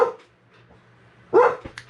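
Dog barking in a basement, a couple of short sharp barks with a brief whimper, fairly close against a quiet background.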